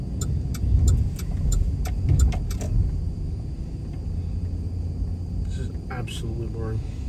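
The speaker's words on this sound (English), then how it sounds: "More log trucks." Log trucks pass on a small-town road in Walterboro, South Carolina, heard as a loud rumbling engine drone that swells and fades while people talk nearby.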